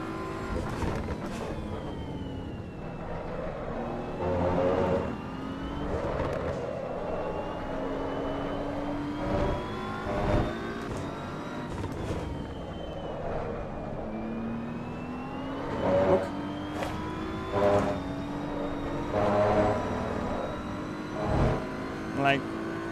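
A race car engine in Assetto Corsa EVO rising and falling through gear changes over a long stretch, with periodic louder surges, while someone talks over it throughout.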